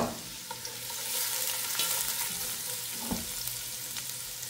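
Ginger and garlic sauté in a pan for Spanish mackerel sinigang, a steady close sizzle running throughout with light stirring scrapes and small pops, no voices.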